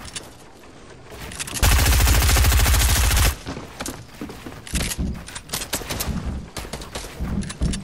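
Automatic gunfire from a video game rattles in a dense, loud burst lasting about two seconds, followed by scattered single shots and impacts amid game noise, with no talk.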